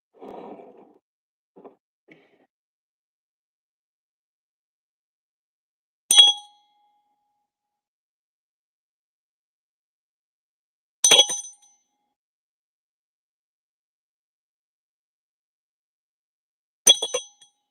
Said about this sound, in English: I'm gonna ring this bell 3 times